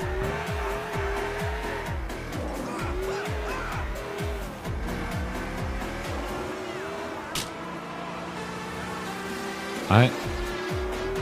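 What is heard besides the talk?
car driving with tire squeal in GTA IV video game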